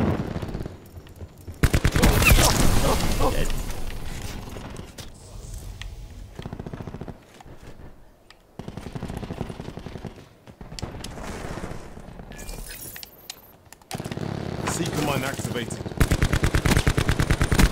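Rapid automatic gunfire in the video game Call of Duty Black Ops 4 multiplayer, loud dense bursts alternating with quieter gaps and scattered single shots, with someone talking in places.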